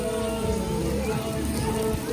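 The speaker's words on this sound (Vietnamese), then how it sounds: "Giờ mưa lớn quá." Heavy rain falls on the beach at Panama City Beach, Florida during a thunderstorm, a steady close wash of noise with a faint tonal hum running underneath.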